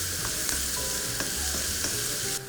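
Asparagus spears sizzling in olive oil in a pan for pasta with asparagus and salmon, a steady close frying hiss with small crackles and pops and a few stirring clicks throughout.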